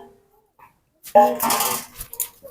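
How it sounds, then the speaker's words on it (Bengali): Lid lifted off a bowl of rested dough in a home kitchen, a sudden clattering metallic rattle and scrape at close range after near silence, followed by a few lighter knocks. "এবার ঢাকাটা খুলে নেব।"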